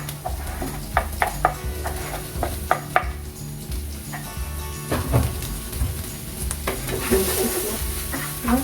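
Onions frying in a pan for fried rice made from leftover rice, a close, loud sizzle with repeated clanks and scrapes of a utensil stirring against the pan.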